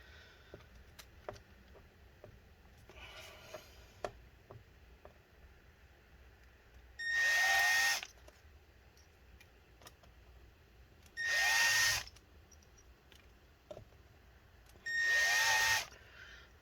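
A cordless power drill, a Christmas gift, runs in three short bursts of about a second each, spaced a few seconds apart at moderate distance, with quiet room sounds between them.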